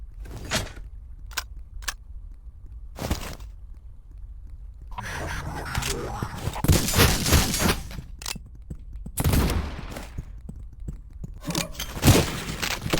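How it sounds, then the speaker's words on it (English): Lever action rifle fire in the Cultic video game, several sharp separate shots spaced apart with clattering reload and action sounds between them, and a denser loud stretch of firing in the middle. "Unfortunately for them, I have a lever action rifle."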